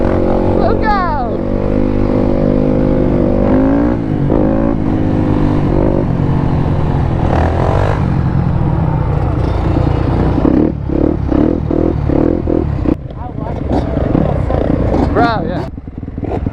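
A Yamaha YZ250 two-stroke dirt bike rides close by with loud, rising and falling revs and a raspy exhaust. People talk over the engine throughout.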